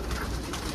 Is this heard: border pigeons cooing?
yes